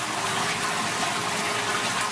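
Oil and water pour together into a hydrocarbon rainwater filter, giving a steady, dense gushing rush that stays constant throughout with no voices.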